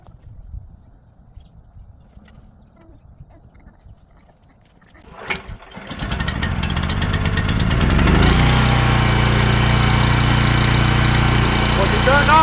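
A Lincoln Bulldog 5500 welding machine's engine is started with a pull after quiet handling sounds, catching around the middle and settling into a loud, steady running drone with a constant hum to the end.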